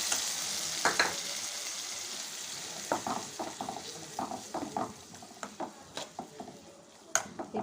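Masala paste frying in oil with tomato for an ivy gourd curry, a quiet steady sizzle with frequent light spoon taps and stirring clicks against the pan, close and without speech.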